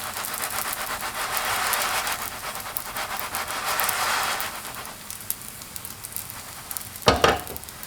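Scallion pancake sizzling in a frying pan, a steady close crackle that fades after a few seconds, ending with a brief clatter as the pan is lifted and turned.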